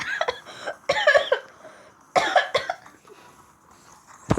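Several rough coughing bursts in a row, loud and close, with short pauses between them and a final sharp cough near the end, in a playful game setting.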